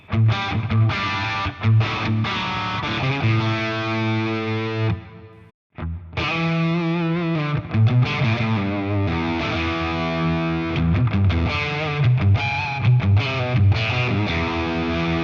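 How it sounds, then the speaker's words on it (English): Overdriven electric guitar with single-coil pickups plays steady chords and riffs through an STL AmpHub Vicarius Black 30 overdrive channel with a gritty, saturated tone, pausing briefly midway before continuing loudly; no talking. "moving on to some of the more dirty sounds on the Overdrive channel here"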